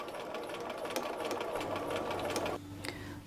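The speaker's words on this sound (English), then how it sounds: "I'm just going to start sewing, and I'm going to sew all the way around my garment" A sewing machine stitches all the way around a garment hem at a 2.5 stitch length, a close steady motor whir with rapid needle clatter that cuts off near the end, leaving a softer hum.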